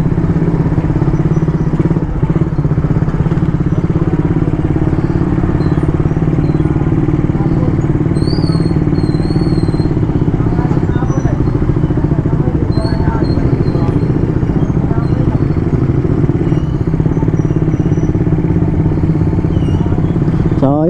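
A motorcycle riding through traffic, its steady engine drone continuous and close throughout, with road noise around it.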